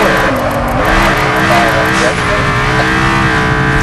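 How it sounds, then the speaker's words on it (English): A manual Nissan Z on summer tires accelerates hard on a track, its engine note climbing in loud, close pulls through the gears while a voice talks over it. "The noise this car makes, and all of that torque."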